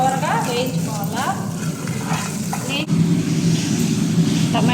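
Grated raw coconut fries in a pan for coconut chutney, giving a steady, soft sizzle with occasional stirring scrapes while someone talks over it.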